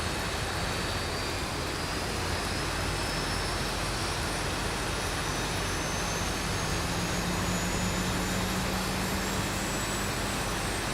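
Twin CFM56-style jet engines of a simulated Boeing 737-800 in X-Plane 12 spin at idle after start, a steady broadband roar with a high turbine whine rising slowly, continuous and close, with no talk.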